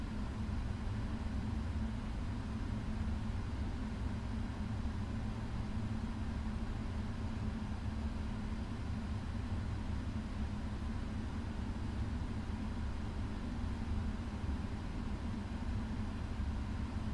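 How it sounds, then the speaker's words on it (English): Boeing 777F cargo jet engines running in a flight simulator game, a steady, fairly faint broadband whine and hum that stays constant throughout, with no talk. "Can you all hear the engines now?"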